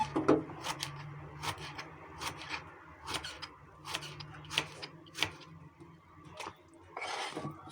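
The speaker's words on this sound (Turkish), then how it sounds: "Patlıcanlarını biraz büyük büyük doğrayacağız güveçte." A knife cuts eggplant into large chunks for a Turkish güveç stew, with a string of sharp, close cutting strokes landing at an irregular pace against a faint low background hum and no talking.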